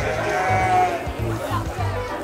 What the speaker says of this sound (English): A baby sheep.